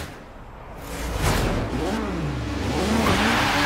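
An Audi Quattro in Forza Horizon 3 fires up and launches, the engine revving with rising and falling pitch sweeps as it accelerates hard, loud and close, with a voice talking over it.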